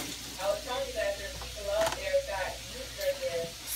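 Food frying in fresh grease and cooking oil, a steady close sizzle with small crackles, while a person talks over it.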